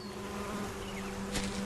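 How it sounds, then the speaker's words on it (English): Small bees buzz steadily among saplings in a video game, a continuous low drone with a faint brighter swell near the end and no talk over it. "There's little bees."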